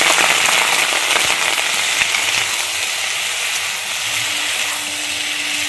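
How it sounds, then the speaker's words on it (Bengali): Chili soybean sizzles loudly and steadily in a pan after a splash of water, a close, hissing fry that slowly settles, without any talking. "আমি সামান্য একটু জল দিয়ে দিচ্ছি"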